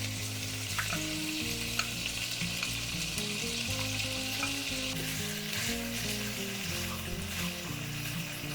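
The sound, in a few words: sautéing bacon in a pan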